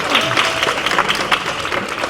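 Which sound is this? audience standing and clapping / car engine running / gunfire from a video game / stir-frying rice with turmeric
audience standing and clapping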